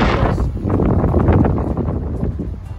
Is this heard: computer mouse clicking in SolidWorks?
no